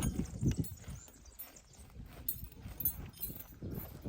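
Working horses clip-clop at a walk, irregular hoof thuds on hard ground, fairly near but quiet, with a little faint background noise and no clear talk.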